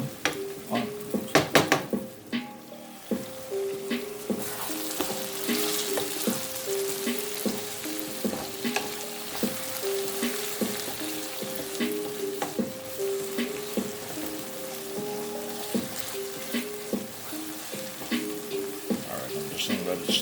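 Tomatoes, garlic and hot pepper frying in oil give a steady sizzle, punctuated by repeated scrapes and clinks of a utensil stirring in the pan, close by, with a few louder knocks near the start.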